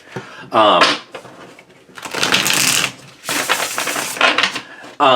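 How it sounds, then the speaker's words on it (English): Cards are shuffled several times in quick, crisp bursts of riffling and fluttering, close by, with brief pauses between shuffles. "I'm just going to shuffle the cards"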